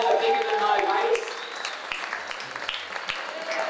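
An audience at an exhibition launch applauds steadily at moderate loudness, the clapping fading slightly as a voice speaks over it.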